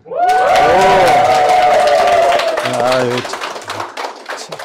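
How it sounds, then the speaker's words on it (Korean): An audience at a Korean public science talk on space travel lets out a loud, sustained shout. Rapid clapping carries on beneath it, and the cheer fades to scattered claps and a few voices near the end. "자, 함성과 함께 박수."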